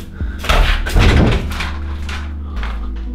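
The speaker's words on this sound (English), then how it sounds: "I just banged through the door!" A door in an abandoned honeymoon hotel bangs open loudly and close, with a sharp impact followed by rattling and echoing clatter in the empty building.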